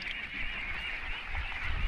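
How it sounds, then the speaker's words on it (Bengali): Khaki Campbell ducks on a riverside duck farm in Bangladesh keep up a continuous chorus of honking quacks, a busy flock heard close by with no talking. "এটাগুলো কিন্তু সবগুলা খাকি ক্যাম্বল হাঁস"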